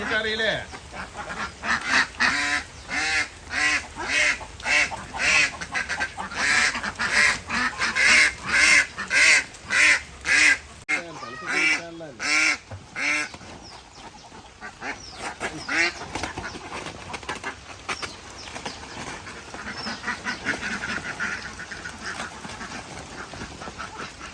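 A flock of domestic ducks kept outdoors during heavy monsoon rain, their loud, rapid quacking chorus pulsing in bursts close by before easing into a softer, steadier murmur of calls.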